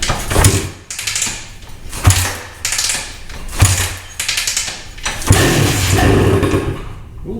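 A junkyard 1984 Honda 250R three-wheeler is kick-started, with four or five loud mechanical strikes of the kick lever each followed by a brief churning rattle, the engine catching near the end into a rough, steady run.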